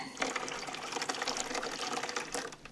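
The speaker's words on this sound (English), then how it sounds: "No, I filled it from the tap." Tap water runs into an electric kettle, a steady, close rushing and splashing stream of filling liquid that continues throughout without a break.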